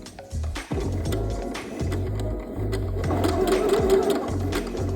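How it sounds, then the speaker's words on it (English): A sewing machine runs a steady straight stitch along a dart on denim, loud and close, with a brief hitch near the start. "This is still a straight stitch."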